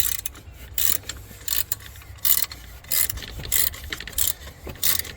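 A ratcheting wrench snugs up the idler pulley bolt on a 1996 Jeep Cherokee during a serpentine belt replacement. About ten quick, crisp ratchet bursts repeat in an even rhythm close by.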